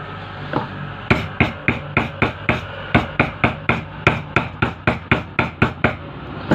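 A hammer drives an impeller onto the motor shaft of a household water pump, giving about sixteen sharp metallic blows at a steady, even pace. The strikes are close and loud.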